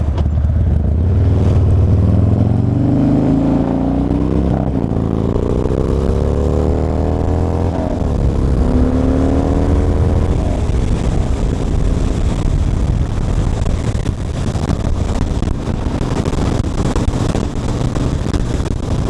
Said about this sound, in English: You can definitely tell when you're rolling through the gears and you're shifting at the top of the RPM band